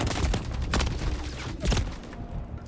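Rapid bursts of gunfire in the Modern Warfare III beta, sharp cracks clustered in quick volleys with short gaps between them.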